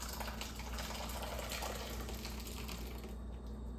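Cheese curds for homemade cream cheese are poured into a cheesecloth set over a bowl, making a steady, close splashing and trickling wash of liquid that runs without a break and eases slightly near the end.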